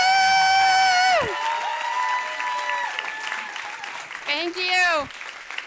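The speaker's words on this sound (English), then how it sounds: "Continue clapping" An audience at a storytelling evening honoring farmers breaks into sustained applause and cheering beneath a loud, excited voice at the microphone, the clapping continuing steadily throughout.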